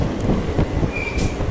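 Katwa–Sealdah galloping local train rushing past at a crossing near Lakshmipur station, a loud, close roar of wheels and carriages with a brief metallic squeal, no voices.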